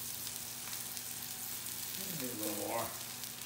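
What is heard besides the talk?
spinach sizzling in a frying pan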